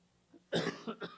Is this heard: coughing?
yes